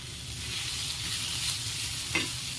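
Softened onion being stirred in a hot pan with turmeric, garam masala and salt, giving a steady sizzle with scraping spoon strokes throughout and a sharper clink near the end.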